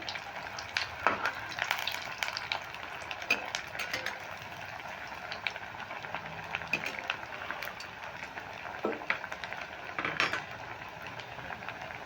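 Snacks deep-frying in very hot oil, a faint crackling bubble with scattered pops and light utensil clinks, no one speaking.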